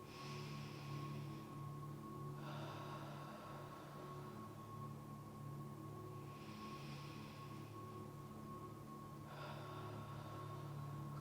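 Deep breaths during a gentle yoga cool-down twist: four long, airy inhales and exhales come at an even, slow rhythm over a steady low background hum, with no talking.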